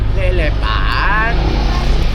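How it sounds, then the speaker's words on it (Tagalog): A motorcycle engine rumbles loudly and close by with a steady low drone while people talk over it. "Yan si Gia, nakasakay na ng motor."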